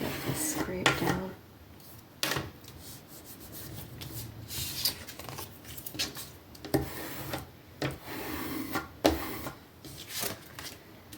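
Craft material scraped down by hand while making a Valentine's card from vintage perfume advertisements, giving close, uneven rubbing and scraping strokes with sharp bursts, with some talk over it.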